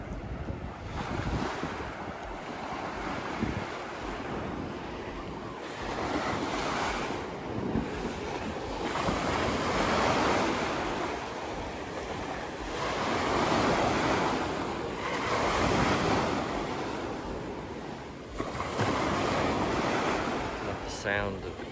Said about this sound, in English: Sound of the crashing waves.